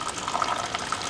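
Water poured from a bushcraft cooking pot through a lid strainer with seven holes, a steady splashing trickle with small bright spatters, close and alone.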